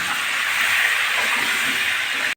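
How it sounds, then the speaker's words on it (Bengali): Potatoes seasoned with salt and turmeric fry in hot oil until browned, giving a loud, dense, continuous hiss up close that cuts off abruptly at the end. "আলুগুলো লাল করে ভেজে নেব"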